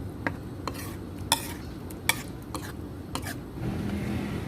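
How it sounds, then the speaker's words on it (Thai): Spatula scraping and stirring chili paste with canned fish in a pan over medium heat; soft sizzle underneath, punctuated by several sharp metallic clicks and scrapes at irregular intervals, close by with no talking. "ใช้ไฟกลางนะคะ ค่อย ๆ ผัดให้มีกลิ่นหอมดีเลยค่ะ"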